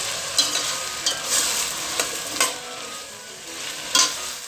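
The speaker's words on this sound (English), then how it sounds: "Just fry your vegetables for about half a minute." Carrots, green peas and cauliflower frying in a pan for rice, a soft steady sizzle punctuated by several sharp scraping stirs of a spoon.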